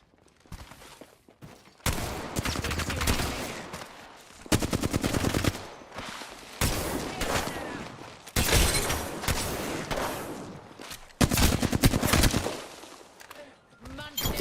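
Rapid automatic gunfire from a video game comes in loud repeated bursts separated by short pauses, with players talking over the shooting.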